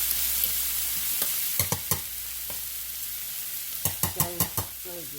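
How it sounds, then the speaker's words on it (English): Leftover vegetables for a rice bowl stir-fried on high heat make a soft continuous sizzle broken by sharp spatula scrapes and knocks, isolated at first, then a quick cluster of clatters near the end. "continue to stir fry these veggies until they get good and done"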